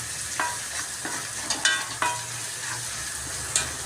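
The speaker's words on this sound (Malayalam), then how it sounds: "അപ്പോൾ നമ്മുടെ സവോളയൊക്കെ നല്ലോണം വഴറ്റിയെടുക്കാം." Onions sizzle steadily in a hot pan with a pinch of salt while a spoon stirs them, sharp scraping knocks repeating every half second or so over the continuous frying hiss.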